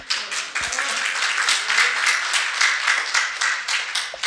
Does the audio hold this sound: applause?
yes